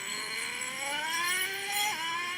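Traxxas Revo 3.3 nitro RC truck on a speed run, its small engine whining steadily and climbing in pitch as it accelerates, with a brief dip near the end as it shifts, heard close and continuous.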